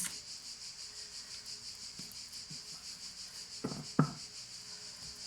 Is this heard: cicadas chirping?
yes